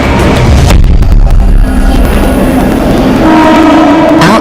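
A crowded, outdated passenger train rumbles along its rails, loud and close, with a steady low roar and clattering wagons throughout.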